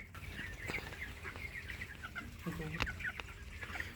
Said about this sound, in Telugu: కోడి తింటున్నా కూడా మీకు చూపిస్తాను ఇప్పుడు